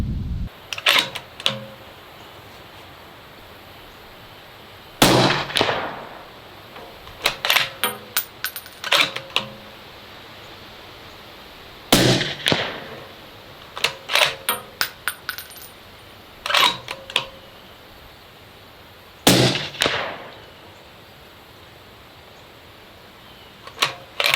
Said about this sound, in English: let's go ahead and get a few rounds down at 100 yards and see what kind of accuracy we get out of it